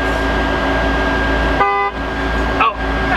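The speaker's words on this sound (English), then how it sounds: "You should see if you can scare James with the horn" A supercar's horn gives one loud honk of about a third of a second, cutting through steady engine rumble and nearby chatter, with a brief chirp after it.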